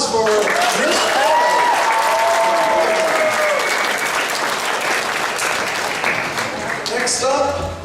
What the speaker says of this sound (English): All right, big round of applause for Chris Paul.